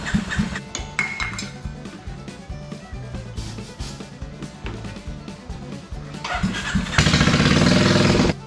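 A freshly rebuilt engine cranks and then runs, its rough rhythmic chugging and metallic clatter continuing throughout before swelling into a louder, busier roar near the end.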